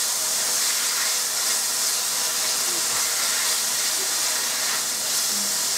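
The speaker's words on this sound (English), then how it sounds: "the reason why I'm frying the bacon now" Shredded bacon fries in a pot for a beef and Guinness stew, giving a steady, dense sizzle and hiss with faint pops.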